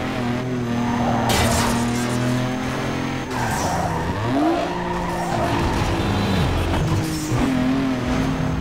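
Racing car in Need for Speed Underground 2 braking hard into a corner, tires squealing and skidding in long sustained screeches over a loud, continuous engine roar with rising and falling revs.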